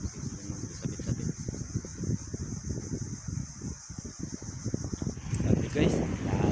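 Strong wind buffets a microphone outdoors during a group bike ride, a steady low rumbling roar with gusts that swell louder near the end, accompanied by a persistent high whine.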